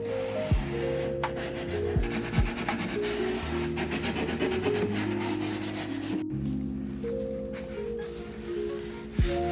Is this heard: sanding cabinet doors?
yes